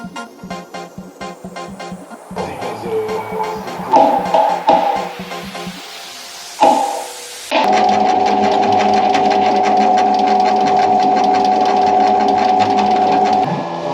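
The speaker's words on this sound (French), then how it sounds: "Donc une fois que tu as percé ta platine," A drill boring through a flat iron mounting plate for a garage workbench, starting with rapid pulsing bursts, then a sustained close, loud whine with a brief pause midway.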